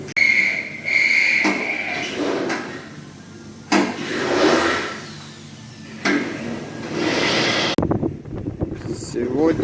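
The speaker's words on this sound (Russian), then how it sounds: "Сегодня ветрено" Wind gusting outdoors beside a car repair job on an Opel Astra G catalytic converter, rushing in swelling waves with microphone buffeting and occasional knocks, fairly loud with brief quieter gaps.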